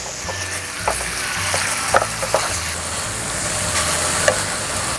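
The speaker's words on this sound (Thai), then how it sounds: "เราผัดให้เนื้อไก่สุกก่อนนะคะ" Steady loud sizzling of bite-sized chicken pieces stir-frying in hot oil, with occasional scraping and clinks of a spatula stirring the pan.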